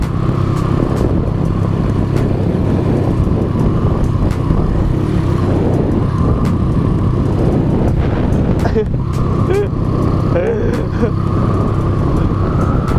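A motorcycle engine roars close and loud through a road race duel, held near-constant with wind buffeting the microphone throughout.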